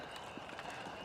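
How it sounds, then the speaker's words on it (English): Faint hoof clip-clops tapping irregularly over a steady background hum, a few soft strikes spread across the moment. "A horse playing over here."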